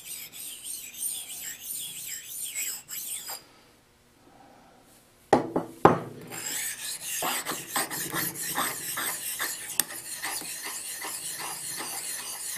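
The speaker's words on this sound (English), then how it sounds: "I'll take a nice flat, make sure I'm flat, and stone off the bottom." A precision ground flat stone rubbed across a flat metal surface gives a loud, bright scraping rasp in repeated strokes, then a brief near-silent pause and a couple of sharp knocks before rhythmic rasping starts again, with no talking.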